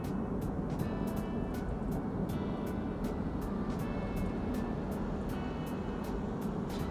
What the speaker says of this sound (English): I can hear it as the cars, the lorry and the motorcycle just pass by my right side